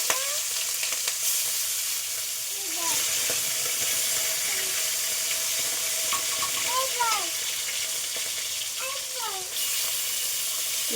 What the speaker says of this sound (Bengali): এগুলো ভেজে নিচ্ছি।